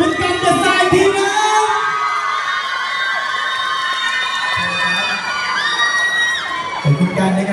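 A large crowd screams, whoops and cheers loudly and continuously for a singer at a Honda motor show in a shopping mall, with high shrieks rising and falling over the din.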